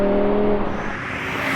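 Audi RS6 drag racing a V10 BMW M5 and an AMG E55, heard as a loud, steady engine roar with a strong whirring drone that holds throughout, close and continuous with no talking.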